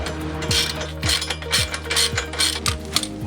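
A ratchet wrench clicks in quick repeated strokes, about six even bursts close by, while fitting 25mm crash bar bolts on a 2019 Honda Africa Twin Adventure Sports CRF1000, with no speech.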